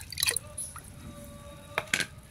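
Pieces of aloe vera drop into a container of water, giving a few small splashes and drips close by, with a quiet pause between them.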